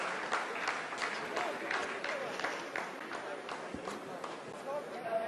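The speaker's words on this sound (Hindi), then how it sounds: "आप इस तालियों के गड़गड़ाहट को सुन सकते हैं" Scientists clap in a long, steady round of applause during the Chandrayaan-3 lunar landing, heard at moderate distance while a voice talks over the clapping.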